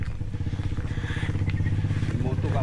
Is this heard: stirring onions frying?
no